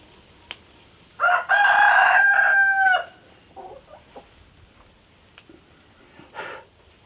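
A rooster crows loudly and close by in a barn where hens lay in a nesting box, followed by soft scattered clucks and a few faint knocks.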